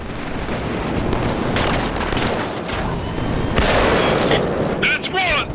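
Gunfire in the video game Killzone 3, a dense, loud barrage of rapid shots and booming blasts throughout, with combat voices shouting over it.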